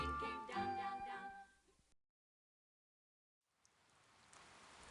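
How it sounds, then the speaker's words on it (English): Steady hiss of rain falling in a forest setting, faint and even, rising gradually after a short silence; music fills the start. "The rain, rain, rain came down, down, down."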